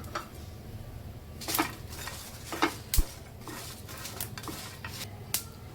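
Whole spices and Kashmiri chillies dry roasting with coconut in a pan, with soft scraping and stirring broken by a few sharp clinks of a spoon against metal, close and fairly quiet with no talk.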